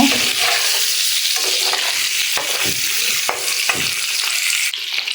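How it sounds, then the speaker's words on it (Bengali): An egg seasoned with turmeric fries in hot oil and is stirred round and round in the pan, a loud steady sizzle close by broken by repeated scraping strokes of the spatula. "যেভাবে নাড়া ঘুরে ঘুরে ঘুরে ঘুরে আমি ডিমটা ভাজে নিচ্ছি লাল লাল করে"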